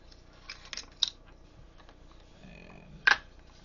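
AR-15 bolt carrier group pulled out of the rifle and handled, a few sharp metallic clicks and slides, one bright clack near the end, over quiet room tone.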